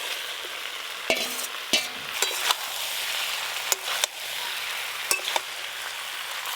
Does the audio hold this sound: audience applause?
no